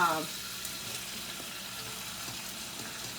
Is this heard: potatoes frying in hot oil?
yes